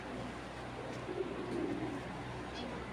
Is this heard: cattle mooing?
no